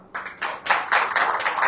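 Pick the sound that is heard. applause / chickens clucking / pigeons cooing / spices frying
applause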